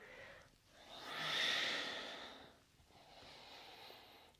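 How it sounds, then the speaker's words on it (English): Slow breaths drawn and released through the nose during a yoga flow, close and soft, with one long airy exhale swelling and fading, then a gentler second breath. "Breathing through the nose."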